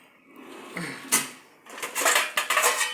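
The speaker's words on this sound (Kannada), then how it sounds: "ಇದ್ರ ಮ್ಯಾಲೆ ಒಂದು ತಾಟ ಮುಚ್ಚಿಡ್ತೀನಿ ನೋಡ್ರಿ" A metal plate is set as a lid over a pan of cooking bele kadubu. Its clinks and clatters come close and sharp, a soft scrape followed by several quick ringing knocks.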